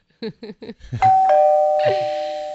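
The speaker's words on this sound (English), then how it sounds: "they keep ringing the doorbell" A doorbell chimes with a clear two-tone ding-dong that rings out and lingers, preceded by a few quick knocks.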